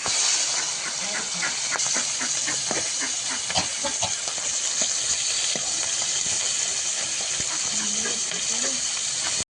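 Fish frying in hot oil in a wok, a loud continuous hissing sizzle with frequent sharp pops and spatters throughout, close and steady.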